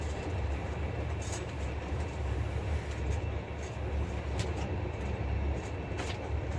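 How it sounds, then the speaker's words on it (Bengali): A passenger train rolls along the line from Cairo to Aswan in Egypt, heard from inside as a steady, close rumble with rhythmic clatter and faint rattles, continuous and unbroken. "ট্রেনে যাচ্ছি, দারুণ ট্রেনে সফর হলো"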